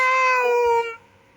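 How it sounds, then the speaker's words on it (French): A single loud, close cat meow with a drawn-out, tonal call that falls away abruptly after about a second. "C'est un beau petit chat que j'aime bien."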